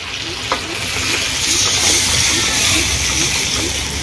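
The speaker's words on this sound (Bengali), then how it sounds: "মাংস খুব সুন্দরভাবে কষানো হয়ে গেছে। এবারে জল দিয়ে দেব।" Water poured into a pan of chicken curry made with a red-combed rooster hits the hot oil and spices, raising a loud, steady sizzle and hiss with stirring scrapes.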